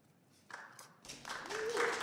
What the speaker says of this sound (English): Y'all don't need to clap for me.